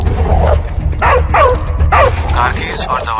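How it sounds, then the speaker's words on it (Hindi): A dog yips and barks in short repeated bursts over a steady low rumble, with voices talking throughout in an indoor film scene. "सामने कुत्ता दिख रहा है?"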